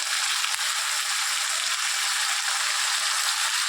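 Tomato paste and spices frying in a pan, a steady close hiss of sizzling oil that stays even and unbroken throughout, with no voices.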